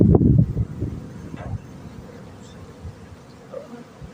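Honeybees at their hives give a low, steady buzzing hum, faint beneath loud handling and rustling noise at the start, then continuing softly alone.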